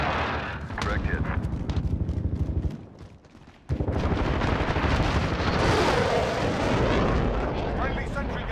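Air strike explosions rumble and boom in Call of Duty: Modern Warfare (2019) on Al-Raab Airbase, a dense, loud barrage with a brief lull before another heavy blast wave, under radio-style voice chatter.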